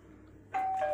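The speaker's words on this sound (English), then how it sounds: "This is one's doorbell." A single electronic doorbell chime rings out suddenly halfway through, clear tonal notes after a quiet start.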